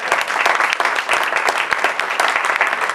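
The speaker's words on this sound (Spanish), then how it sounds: "Un aplauso al patriarca" An audience at Bar Benito in León claps for the patriarch, dense, loud and close applause with sharp individual hand claps throughout.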